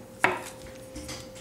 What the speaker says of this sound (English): Next we're going to cut out the mushrooms